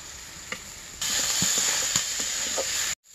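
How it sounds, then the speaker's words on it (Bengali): Ginger garlic paste drops into hot oil with cumin and fried onions on a clay stove, bursting into a loud, steady sizzle after a quiet start, then cutting off abruptly. "এখন একটু আদা রসুন বাটা দিয়ে দেবো।"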